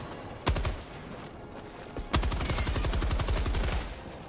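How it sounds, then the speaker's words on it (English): Light machine gun in Helldivers 2 fires a short burst, pauses, then lets off a long rapid automatic stream of close, loud shots with no talking. "I got Yeti's light machine gun."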